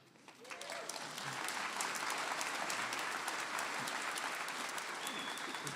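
Audience applause rises quickly and then holds steady as dense, continuous clapping from a seated crowd at a portrait artist's talk event, with a voice faintly present.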